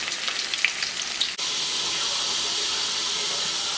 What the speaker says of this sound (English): And I am frying chicken wings